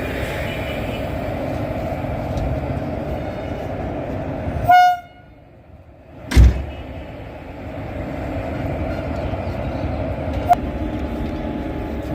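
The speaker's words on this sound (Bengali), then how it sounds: "আস্তে আস্তে দিয়ে আসছে আমাদের ট্রেনের ইঞ্জিন" A train locomotive creeps slowly toward a station on the way to Tarapith, its steady rumble broken by a short horn toot and later a sharp, loud horn blast, then the engine noise drops and builds again, with no talk.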